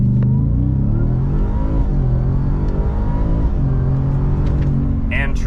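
Ford F-150 Raptor R pickup launching hard from a brake-rev in 4 auto with traction off, its deep engine roar loud and close, climbing steadily in pitch through a full-throttle run with a brief voice near the end.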